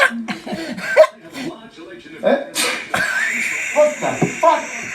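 A person sneezes several times in quick bursts, the sneezes mixed with laughter, wheezing and chatter from people nearby.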